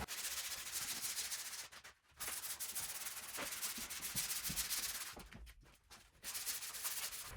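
Hand sanding the finish on a coffee table: steady, close rubbing strokes with a continuous gritty texture, broken by two short pauses, with no talking.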